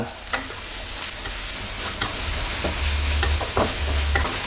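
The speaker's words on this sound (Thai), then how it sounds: "พอเราผัดสามเกลือจนมีกลิ่นหอมแล้วก็ใส่หอมแดงสับลงไป ผัดต่อให้เข้ากัน" Chopped shallots stir-fried with a pounded paste of garlic, coriander root and pepper for a pork filling for sago dumplings: loud, close sizzling broken by repeated spatula scrapes and knocks against the pan.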